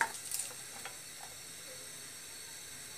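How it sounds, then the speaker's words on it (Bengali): Onion fries in hot oil in a pan, giving a steady, quiet sizzling hiss with a few faint ticks and pops near the start, with no voices. "আমি এখন তেল দিয়ে দিচ্ছি আর এর মাঝে দিয়ে দিচ্ছি প্রথমে"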